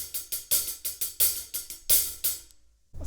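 A hi-hat plays a beat of sixteen crisp, evenly spaced notes, with the last note accented and ringing out a little longer before a short silence. The hits are close and dry, with no talking.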